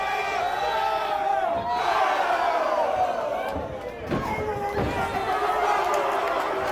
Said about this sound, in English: the crowd here making some noise